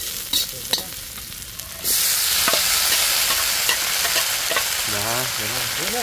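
Garlic and shrimp sizzle loudly in a hot pan, a steady broadband frying hiss that jumps up after a couple of seconds as food goes in, with stirring clatter and a brief voice near the end.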